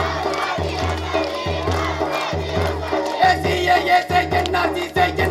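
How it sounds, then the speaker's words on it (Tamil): A crowd chants the Azadi slogan at a protest, many voices shouting together in a rhythmic call-and-response pattern, loud and dense with pulsing beats underneath. "எப்படின்னா ஆசாதி ஆசாதி ஆசாதி ஆசாதி இப்படி சொல்லணும்"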